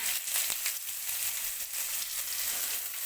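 Carrots drop into a hot tempering of curry leaves and mustard seeds for chire pulao, setting off a steady, bright sizzle with a brief clatter near the start and continuous frying hiss after.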